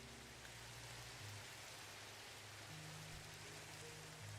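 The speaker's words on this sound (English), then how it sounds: "It started raining." Steady rain falls in a Minecraft game, a soft, even hiss of drops that carries on without a break, faint and with no voices.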